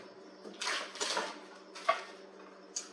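Two sticks of unsalted butter are roughly cut into smaller pieces with a knife, heard as a few soft, close, separate scraping and tapping strokes in a quiet kitchen.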